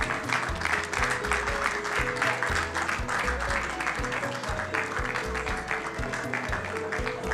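An audience at the unveiling of the official logo for the Golden Jubilee of the DR Congo claps steadily, a broad continuous applause that holds at even loudness throughout, with a faint rhythmic background underneath.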